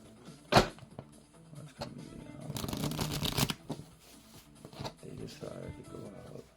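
A deck of playing cards being cut and riffle-shuffled, with a sharp snap, then a long flurry of fluttering cards, followed by softer handling taps; close and fairly quiet.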